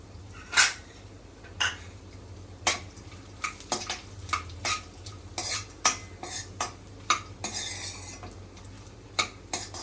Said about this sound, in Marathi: त्याच्यामध्ये काजू बदाम आपण थोड़ी पळतून घेऊया